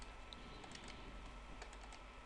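A computer mouse is double-clicked repeatedly while fields are added in an Access 2013 query design, giving faint, quick plastic clicks in small clusters over quiet room hum.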